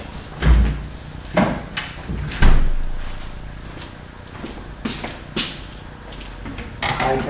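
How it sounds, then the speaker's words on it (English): A fridge door thuds shut after something is put back inside in a home kitchen, followed by several more knocks and bumps of cupboard or door handling, moderately close with no talking. "This guy goes back in the fridge."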